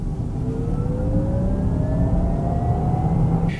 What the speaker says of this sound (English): let's take the all-wheel drive version up one of Vancouver's steeper hills,